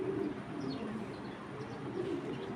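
Racing pigeons cooing softly and steadily in a loft, low murmuring coos continuing throughout with a few faint chirps, fairly close.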